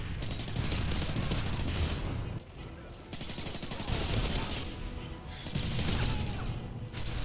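Heavy automatic gunfire from a modern Call of Duty multiplayer match roars almost nonstop, dense bursts layered over one another, with brief dips around the two- and five-second marks before the barrage resumes at full loudness.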